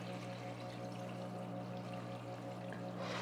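Water pouring steadily into a bucket holding a net pot basket in a greenhouse, a continuous soft stream over a low steady hum, faint and unbroken, with no voices.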